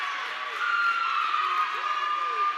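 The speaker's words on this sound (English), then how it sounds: "And Weber taking a seat, getting a big ovation from the crowd." Spectators at a high-school boys' basketball game give a departing player an ovation, a sustained roar of cheering and shouts that swells midway, with an announcer talking over it.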